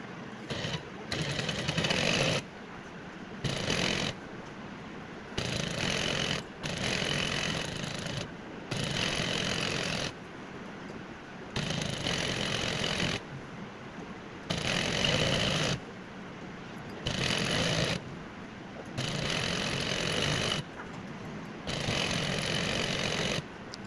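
A sewing machine runs along a half-inch folded waistband in repeated steady bursts of buzzing motor noise, each lasting a couple of seconds and broken by short silent gaps, heard close and alone.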